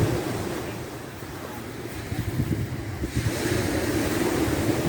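Rough sea waves breaking on a rocky shingle beach on the northern side of Skiathos, a steady close roar of surf with wind noise and a swell building louder toward the end.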